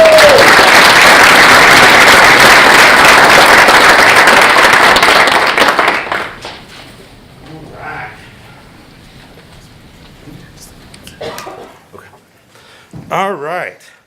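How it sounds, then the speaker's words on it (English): Audience applause at a town council meeting fills the opening six seconds with dense, loud clapping, then cuts off to a quieter room with scattered noises and a brief voice near the end. "Give them all one more round of applause."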